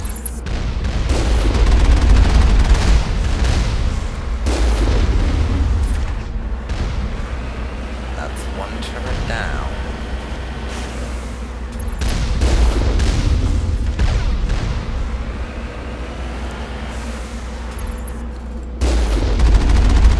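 AI-controlled defense turrets in Mass Effect fire on the Mako vehicle, a sustained roar of heavy weapon bursts and booms that swells and fades in waves over a rumbling background.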